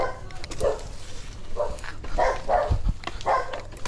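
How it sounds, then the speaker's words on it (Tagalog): A dog barks several times along a rural road during a solo motorbike ride, short barks spaced irregularly at moderate distance over a steady engine and road hum. "May aso pa."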